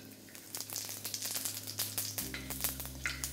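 Panch phoron five-spice tempering crackles and sizzles in hot oil in a pan just used for frying fish heads, a steady close frying hiss with scattered sharp pops, no talk.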